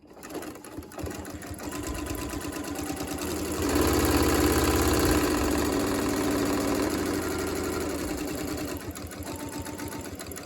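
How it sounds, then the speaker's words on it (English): A sewing machine back-stitches a pocket onto a bag, running as a steady, close mechanical whir that swells slightly in the middle and holds on for about ten seconds. "we're back stitching because I want to have this nice and secure"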